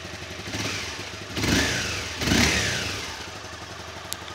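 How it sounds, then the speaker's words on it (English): Exhaust of a 2018 Honda CBR 250R motorcycle blipped twice from idle, each deep revving burst rising and falling back to a steady close-up idle. "Let's hear the exhaust note."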